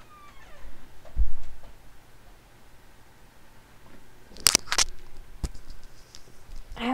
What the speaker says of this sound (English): I have a do not disturb door hanger on my door, and my cat likes to hit it when he wants in my room